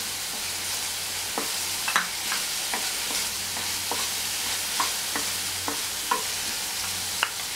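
Cauliflower Manchurian sizzles in a pan as soy sauce goes in, a steady hiss of frying broken by repeated scraping taps of a spoon stirring, close and alone with no talk.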